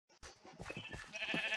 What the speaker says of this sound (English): Hey, hey, hey, baby sheep, baby sheep!